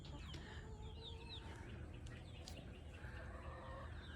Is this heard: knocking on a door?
no